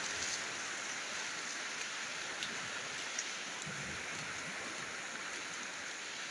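Sea waves on the Konkan coast make a steady, dense wash of surf that holds an even loudness throughout, with no voices.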